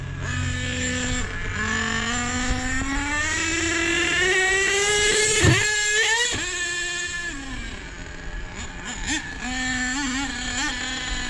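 A truck engine with a Savage cam, a tune and a 3-speed transmission runs far too lean, its loud, rough exhaust note climbing and falling through several revs.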